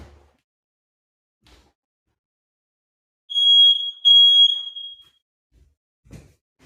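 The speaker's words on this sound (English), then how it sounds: "We have my smoke alarm going off." A smoke alarm chirps loudly in two close high-pitched beeps, the second trailing off, surrounded by near silence with a few faint knocks.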